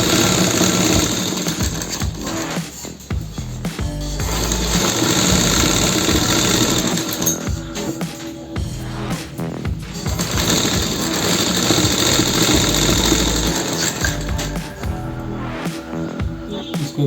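Sewing machine stitching fabric for a plazo, running as a loud, steady mechanical whir for most of the stretch, dipping briefly before picking back up again.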